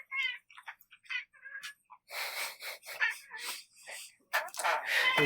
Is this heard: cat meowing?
yes